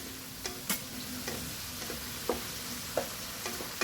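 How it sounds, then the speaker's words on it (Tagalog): Sausage stir-fried in a pan gives a constant sizzle punctuated by regular spatula clicks and scrapes against the pan, close up with no speech. "Lagay ko na sausage. Mix."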